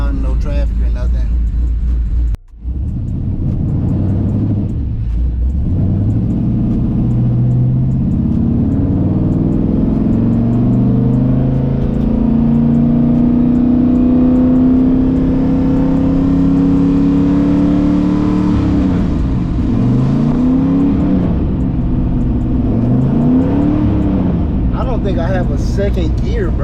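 A 1964 Chevy with newly installed power disc brakes pulls away and accelerates, its engine note climbing steadily through a long pull, then easing and surging again in rising and falling revs, loud and close, with someone talking over it.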